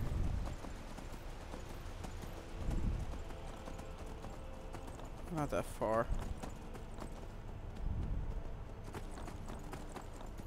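Horse hooves clip-clop through the Skyrim wilderness in a steady trot, audible throughout under someone speaking briefly, with occasional game effects layered in.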